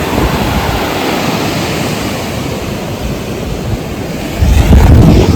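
Loud, continuous roar of sea surf on Ganeshgule Beach with a heavier wave surging in near the end, plus some wind buffeting the microphone.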